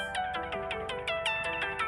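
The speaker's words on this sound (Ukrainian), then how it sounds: "знову бачите, телефонують" A phone ringtone for an incoming call plays a repeating melodic pattern of bright, evenly spaced tones at steady volume, cycling several times with no talk.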